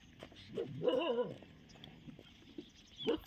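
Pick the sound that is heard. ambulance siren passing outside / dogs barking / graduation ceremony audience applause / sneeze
dogs barking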